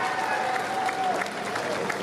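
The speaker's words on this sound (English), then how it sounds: "How about a round of applause for this?" A crowd at a BART legacy train fleet retirement ceremony applauds, a dense, fairly loud wash of clapping with a faint tonal whine and some voices mixed in.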